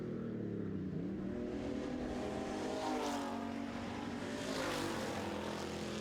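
Street stock race cars roaring around a track in a heat race, a steady, distant-sounding engine drone with swelling passes and no talk.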